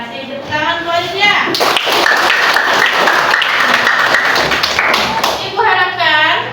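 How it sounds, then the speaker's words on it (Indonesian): A classroom of students applauds a classmate named Aditya, a loud, dense burst of clapping lasting several seconds, with teacher and children's voices at the start and end. "Tepuk tangan buat Aditya"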